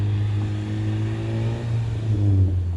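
Honda Civic Si exhaust heard from inside the car, a steady low engine drone with a slight rise in revs near the end, moderately loud and with no talking.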